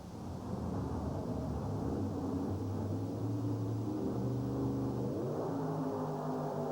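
A carbureted, nitrous-injected GCJ funny car engine roars through a drag race run, a loud continuous drone with rising harmonic tones that shift near the end as the engine is shut off early.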